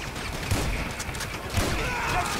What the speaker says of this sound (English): I'm gonna use a fucking shotgun here.